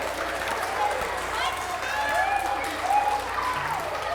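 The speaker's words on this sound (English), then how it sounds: "Give him a huge clap." Audience applause at a family science show, a steady wash of clapping that continues for several seconds with a few voices and excited calls mixed in.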